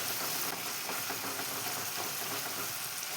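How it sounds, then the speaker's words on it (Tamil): Dates frying in ghee give a dense, steady, close-up sizzle with a constant crackling hiss that fills the whole moment, and nobody speaks over it. "இந்த நெய்யிலே நல்லா வறுத்து இது பண்ணி"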